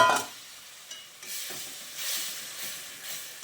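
Sugar syrup poured into frying semolina halwa, a loud initial hissing burst that settles into softer, uneven sizzling and bubbling with gentle stirring.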